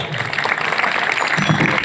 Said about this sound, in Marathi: टाळ्या वाजव की एकदा.